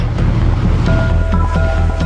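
Sea waves rolling in at Sir Creek, the disputed inlet on the Arabian Sea between India and Pakistan, as a steady broadband wash with wind noise, a faint engine-like hum and brief tonal calls overhead.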